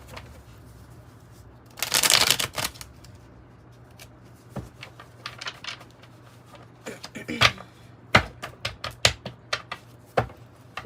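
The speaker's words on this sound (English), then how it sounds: "I'm going to pull a tarot card, and then we'll be done with the spread." Tarot cards are shuffled and pulled for a reading, with a brief loud riffle near the start, then a rapid run of crisp, close card snaps and taps toward the end, with no talking.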